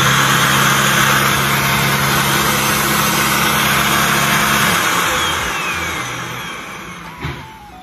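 A Xiaomi mite remover bed vacuum cleaner runs with a loud, steady motor whine and airflow roar close by, its low hum dropping away partway through as the pitch shifts and fades toward the end.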